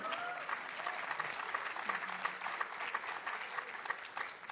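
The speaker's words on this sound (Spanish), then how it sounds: "Sí, denle un aplauso a Dios, ¿por qué no?" Applause from a church congregation at a Spanish-language service, steady and fairly faint, running continuously with scattered distant voices mixed in.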